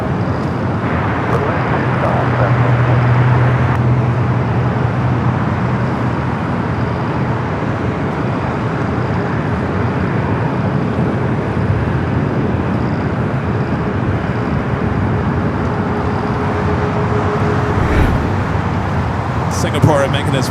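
An SAS Airbus A330-300 rolling toward runway 24 left at LAX, heard as a loud, steady broadband jet engine rumble and roar that holds throughout, with a brief whine early on and a voice talking over it.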